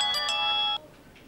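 A mobile phone ringtone chiming briefly, a bright, sustained electronic tone with two quick onset pulses, cutting off abruptly after under a second.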